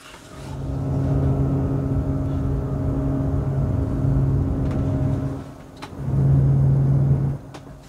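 Fans of a Zenith ZM800 PC case spinning at 50% speed, recorded close up with the mic pulling away: a steady whirring drone with tonal hum, dipping briefly and swelling again near the end.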